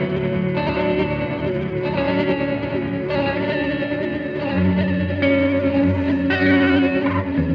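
A Pladask Elektrisk Baklengs pedal in destructive mode, its modulation feeding back on itself and growing more chaotic. A dense, warbling, distorted wash of guitar-like tones shifts and stutters in repeated bursts, loud and continuous with no voices.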